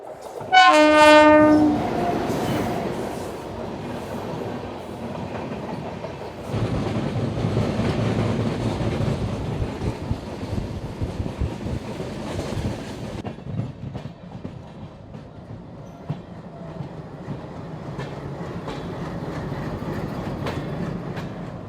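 A loud train horn blasts at the start, then a passenger train on the Konkan Railway rumbles past steadily with rhythmic wheel clatter, fading gradually toward the end.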